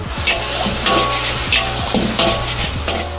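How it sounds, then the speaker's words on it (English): Metal clanks and scrapes repeat steadily over a continuous frying sizzle, a wok being tossed and stirred at a busy hawker stall stove at Cecil Street Market in Penang. "you can hear the clanking of the wok in the distance"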